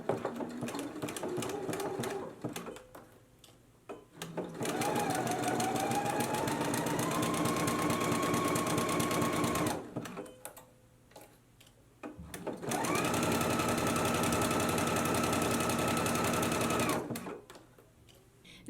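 A domestic sewing machine with integrated dual feed engaged stitches pockets onto loungewear pant fabric, running in two long steady bursts of fast rhythmic needle chatter separated by brief pauses, close and clear.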